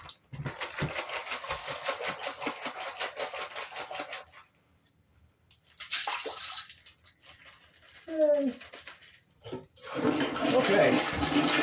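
Water runs steadily from a tap while rinsing around an ostomy stoma, a broad hiss that pauses briefly midway and then resumes loudly, with splashing and handling noises near the end.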